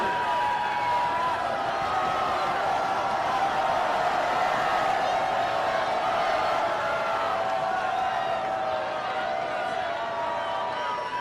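Spectators at a college club swimming nationals in Mesa, Arizona cheer throughout a 50 freestyle race, a dense, steady crowd roar with scattered whoops that holds at an even loudness from start to finish.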